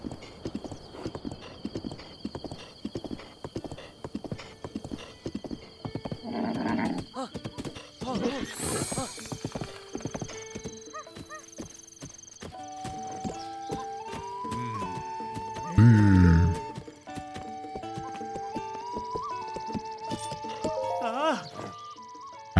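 In Zelda: Breath of the Wild, a horse's hooves clip-clop in a steady rhythm and the horse neighs loudly once, with game music and occasional talk running alongside.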